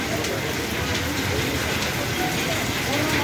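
Heavy rain pours down in Ranebennur, Haveri district, a dense, steady hiss of rainfall drumming on surfaces close by without letting up.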